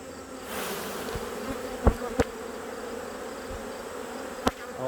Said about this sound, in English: Totally packed with bees.